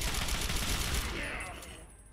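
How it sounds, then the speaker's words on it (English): Rapid automatic gunfire in the wasteland shooter Fallout 3, a dense rattling burst that fades out over about two seconds, fairly faint, with no voices. "I'm sorry if I shot you, Sharon."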